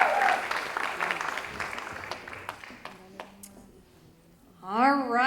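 Audience applause at a seniors talent show starts as a dense clapping wash, thins into scattered claps with faint ringing tones, then a voice rises at the close.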